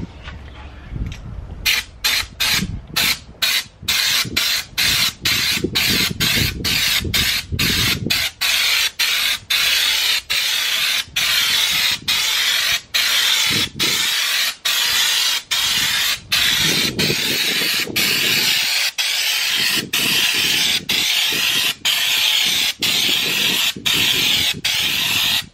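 Raptor liner coating sprayed onto a 72-volt lithium Cushman Hauler Pro utility golf cart: a loud, continuous hissing spray gun broken by regular brief pauses in a rapid on-off rhythm throughout.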